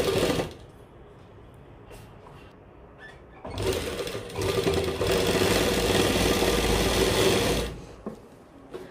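A sewing machine stitches the neckline of a plain-fabric kurta with a fast whirring mechanical hum in two bursts, a short one at the start and a longer run in the middle, and quiet handling between them.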